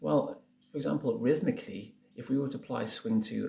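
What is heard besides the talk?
No everyday noises stand out.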